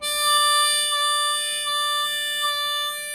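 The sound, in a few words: harmonica note changing tone without bending pitch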